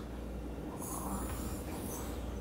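A child imitates snoring with a soft, breathy snort and airy exhale, faint and close against a steady background rumble.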